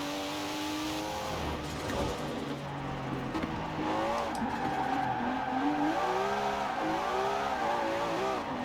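A car drifting around Fortune Island in Forza Horizon 4, its tires squealing in long wavering howls while the engine revs and a blow-off valve chatters, steady and moderately loud.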